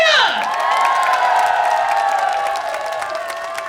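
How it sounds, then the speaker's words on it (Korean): At an outdoor flower festival concert in Jangseong, a crowd claps and cheers for a singer, a loud, dense mix of clapping, shouts and whoops that fades slightly toward the end, with a fading voice at the start. "여러분 박수와 함성 보내주세요!"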